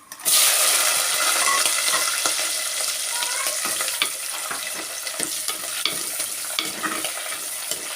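Twenty whole green chillies hit hot oil already crackling with mustard seeds and fenugreek for papaya pickle, giving a loud, steady sizzle with spitting pops and occasional stirring clinks, close up and without speech.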